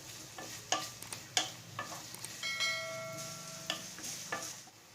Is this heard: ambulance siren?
no